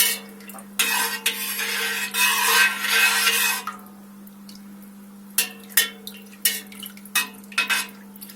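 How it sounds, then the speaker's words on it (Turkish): Yogurt is stirred for homemade cheese with a utensil scraping against a pot, first a sustained rasping swirl and then a string of short separate scrapes and taps over a low steady hum. "Yoğurdumuzu iyice karıştırdık."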